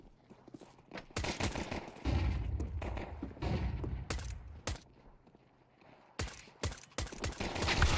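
Gunfire during a Counter-Strike pistol round: sharp, loud shots crack in bursts, some in quick doubles and some alone, between short lulls with faint movement and footsteps, heard close up.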